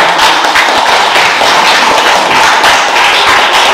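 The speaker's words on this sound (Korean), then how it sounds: "박수 부탁드립니다" A lecture audience applauds the speaker. Loud, close, sustained clapping from many hands fills the space as a thick, even patter with no talking.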